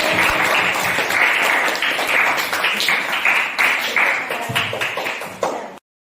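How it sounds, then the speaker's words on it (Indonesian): Classmates in a school lesson applaud after a presentation, loud dense clapping close by that continues steadily for several seconds before cutting off abruptly. "Tepuk tangan teman-teman."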